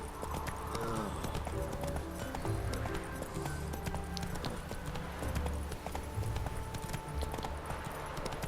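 Horse hooves pounding in a quick rhythmic clip-clop in The Witcher 3: Wild Hunt, steady and fairly loud under game music and ambient sound throughout.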